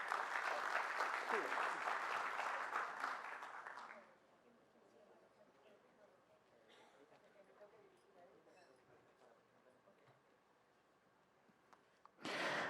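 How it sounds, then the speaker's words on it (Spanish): Loud audience applause welcoming a speaker at a lecture on conciliation techniques in oral civil proceedings, steady clapping for about four seconds, then a quiet room with faint murmurs before a short burst of sound near the end. "La recibimos con un fuerte aplauso, por favor"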